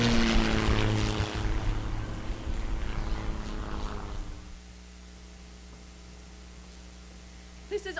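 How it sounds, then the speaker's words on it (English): A US Army bomber plane's engines drone in a War of the Worlds radio drama, a loud, steady propeller roar that abruptly drops to a low hum and a quiet hiss. "This is Army bombing plane V-843 off Bayonne, New Jersey."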